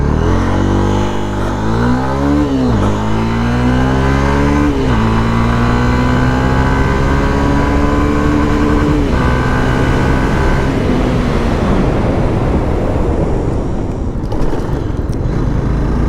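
A Honda motorcycle accelerates hard from a standstill toward 100 km/h, its loud engine note rising and dropping sharply with each upshift through the gears, close and steady with no talking.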